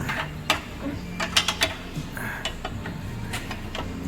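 Metallic clanks and scraping sound close by as a pry tool works the lower control arm loose on a 2012 Nissan Juke, with a few sharp knocks in the first half and quieter rattles later.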